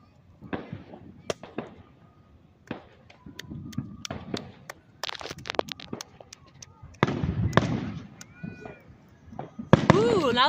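Independence Day fireworks burst in a string of sharp pops and crackles, some near and some distant, with a denser barrage toward the end; people talk in between.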